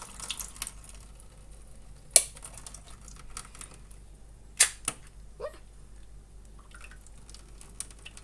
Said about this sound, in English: I'm going to open these mushrooms up and just drain them into the sink